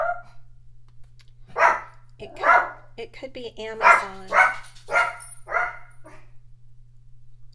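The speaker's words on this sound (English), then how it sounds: "She's gonna bark till they go away, or till my husband goes to the door." A pet dog barks repeatedly at someone at a household door, a series of about six loud, close barks in quick bursts, with a person speaking briefly at the start over a steady low hum.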